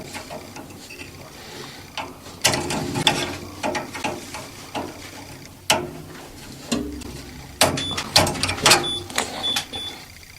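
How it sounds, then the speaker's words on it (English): Wrench working a long bolt loose on a steam boiler burner assembly: repeated metallic ratcheting clicks come in irregular bursts, with sharp clanks and scrapes at close range and no talking. "I finally got a hold of the nut so I can take the bolt out"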